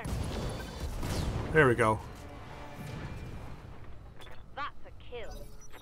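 Weapon fire in the mech combat game RogueTech, a loud burst near the start followed by a brief rumbling blast, with someone talking over and after it.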